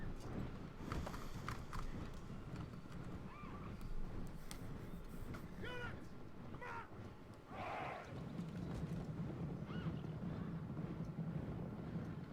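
Horse archers galloping in a video game campaign: continuous rumbling hoofbeats under a steady battle din, with occasional whinnies and other game sounds layered over it, and no speech.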